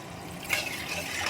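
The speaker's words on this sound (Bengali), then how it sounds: "সামান্য পরিমাণে কিছুটা জল দিয়ে দিচ্ছি" A small splash of water is poured into a mustard and poppy seed hilsa masala: a short, faint trickle with a light clink, close and brief.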